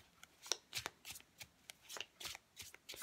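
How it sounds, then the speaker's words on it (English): A tarot deck shuffled close up, with a steady series of quick papery riffles and soft snaps, alone and fairly quiet. "I've given them a hell of a good shuffle this time around"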